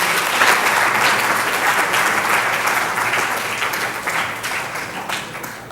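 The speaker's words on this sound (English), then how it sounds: "Please give him a round of applause." Sustained loud audience applause at an inaugural function for a space week celebration, dense continuous clapping from a large hall crowd that holds steady and then slowly tapers toward the end.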